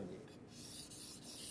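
Japanese kitchen knife stroked up and down on a whetstone, a faint, soft rubbing scrape close by, a few quiet strokes with nothing else over it.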